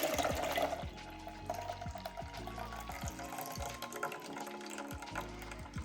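Juice pouring fast from the spout of a juicer, a steady faint liquid stream with gurgling and occasional drips and clinks, running continuously throughout.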